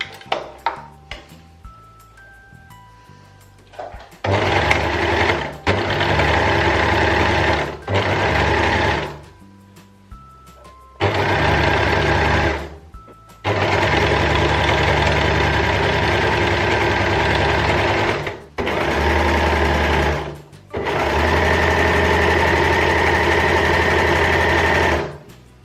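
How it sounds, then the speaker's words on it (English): Overlocker serging the edge of a dress being altered into a top, loud and close, running in several sustained bursts of a few seconds each, separated by short pauses, with a brief faint voice at the start. "I'm just going to overlock the edge"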